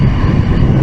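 Triumph Speed Triple 1200 RS motorcycle being ridden, a loud continuous low engine roar mixed with wind rush, steady and close.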